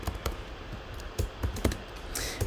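Fingers type on a computer keyboard in short irregular bursts of close, crisp key clicks with brief pauses, with no talking.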